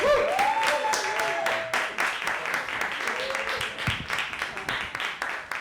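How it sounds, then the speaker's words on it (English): A live show audience applauds with dense, steady clapping throughout, with a voice briefly rising over the noise near the start. "So give a round of applause to Patrick Holbert."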